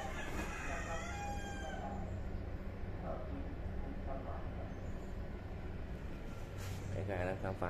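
A chicken crows once near the start and clucks faintly later, heard alongside a white cat amid loud constant background noise and a talking voice.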